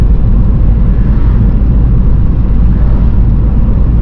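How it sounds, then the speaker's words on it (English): An old car, over 21 years old, driving along a country road in Alabama, a loud steady low engine and road rumble that fills the cabin without pause, with no talking. "Listen to the car. It's getting on up there in age."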